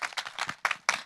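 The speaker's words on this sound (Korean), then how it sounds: "여러분의 박수로 청해 듣도록 하겠습니다" A lecture hall audience claps in welcome for a speaker at a talk concert marking Korean Provisional Government Founding Day, with brief uneven bursts of applause at moderate volume.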